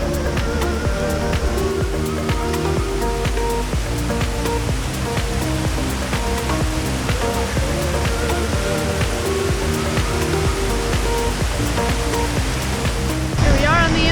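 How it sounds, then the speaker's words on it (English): Multnomah Falls, a roaring waterfall in the Columbia River Gorge, gives a loud unbroken rush of falling water that fills the whole scene steadily from start to finish. "You can tell that this waterfall is a lot stronger just by the water and Sound."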